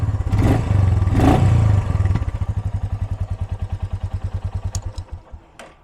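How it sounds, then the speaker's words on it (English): A 2022 Royal Enfield Meteor 350 single-cylinder thumper blips its throttle in two short revs near the mic, then settles into a steady, loping idle with distinct rhythmic exhaust pulses that fade out. "Now let's hear it. I'll give it a couple small revs."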